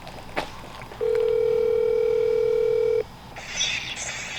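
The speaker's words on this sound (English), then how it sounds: "So let's give Edward a call" A single steady telephone tone sounds for about two seconds, clear and close, over faint background noise, followed by a brief hiss.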